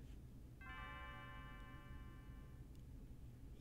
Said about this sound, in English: Yo, the bell's ringing.